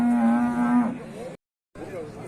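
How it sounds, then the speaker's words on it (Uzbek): A cow at a livestock sale lets out a loud, close, drawn-out moo. A brief silence follows, then softer, lower bovine sounds and background noise. "Xo'p, navbatdagi sigirimiz."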